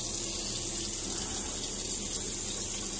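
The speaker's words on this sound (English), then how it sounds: "But rinse that out because you got a lot more hair on there." Steady running tap water pours over a razor being rinsed of shaved hair at a bathroom sink, a continuous close hiss with no talking.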